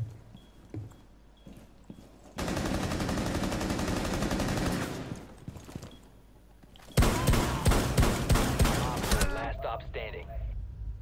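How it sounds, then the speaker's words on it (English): Shotgun blasts in the tactical shooter Rainbow Six Siege, heard as two long dense bursts of loud booming gunfire with clattering in between, close and overpowering amid quieter game sounds. "Good old shotgun."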